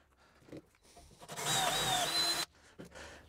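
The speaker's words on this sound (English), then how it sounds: "drill the holes on the bracket to suit" A power drill whines for about a second at high pitch, close by, drilling holes in a metal bracket, with quieter clunks and handling noises before and after.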